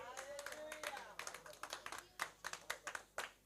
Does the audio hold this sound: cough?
no